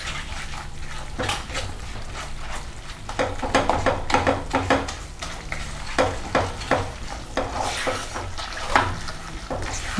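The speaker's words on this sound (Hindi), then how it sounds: "हमें बेसन को अब भूनना है।" Besan (gram flour) roasting in a pan with spices for kachori filling: continuous close sizzling with repeated scraping stirs of a spoon against the pan, no voices.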